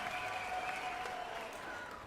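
An applause and cheer sound effect played on a livestream, a faint, distant wash of crowd clapping that holds steady for about two seconds, then eases slightly.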